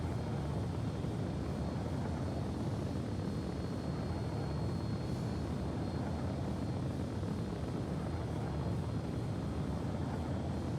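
A spaceship flies in Star Citizen, producing a steady, dense engine roar with a deep hum that holds unbroken and loud throughout, with no voices.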